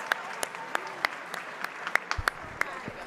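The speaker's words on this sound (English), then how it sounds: "Yeah, a round of applause." Sparse, scattered clapping from a small audience at a university awards ceremony, distinct individual claps popping irregularly over a quiet room with faint background voices.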